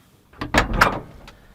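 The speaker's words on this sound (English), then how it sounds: "Go open the back door." The back door of an old Chevrolet Suburban is opened at a snowy winter campsite, a quick close sequence of latch clicks and a thudding swing followed by a faint later tap, with no voices.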